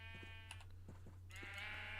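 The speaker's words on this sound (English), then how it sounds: "See, there's sheep and stuff. Yay, sheep." Minecraft sheep bleat faintly a few times in a wavering, nasal baa, with a steady low hum underneath and a brighter tonal game sound rising near the end.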